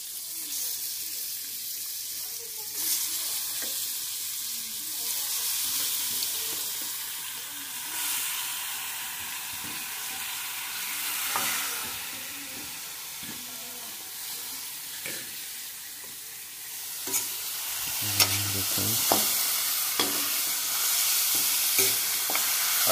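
Village-style wild boar meat, cooked the Dimasa tribe way in Assam, sizzles steadily in a pan while being stirred, with a constant frying hiss broken by scraping and clattering of the spoon, and some talk in between.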